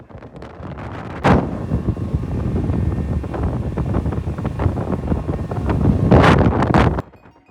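Boat ride across open sea near Phi Phi Island, Thailand, with steady wind rush buffeting the microphone over a rumbling engine and water, two louder gusts standing out, no talk.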